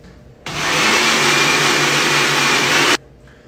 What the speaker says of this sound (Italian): Andate a mettere il tutto in un frullatore.